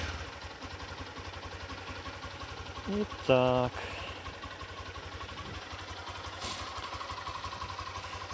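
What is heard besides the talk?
motorcycle engine starting and idling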